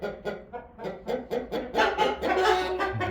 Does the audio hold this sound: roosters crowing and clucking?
yes